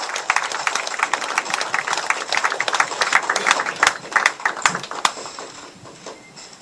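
Audience at a forum on resuming Mount Kumgang tours claps together in sustained, dense applause that rises, holds loud, then thins out toward the end.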